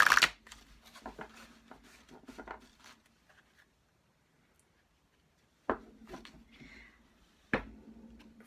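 Oracle cards being shuffled by hand give close, soft papery riffles and slides, busy at first, then a quiet pause broken by two sharp card snaps.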